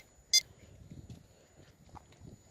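A Power Pulse underground imaging device gives one short, sharp beep early on, then only quiet background handling noise follows.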